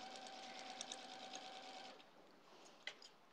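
A sewing machine stitches together a square-in-a-square quilt block, its fast steady whir and needle chatter running close and continuous, then slowing near the end, with a faint tone and a few clicks mixed in.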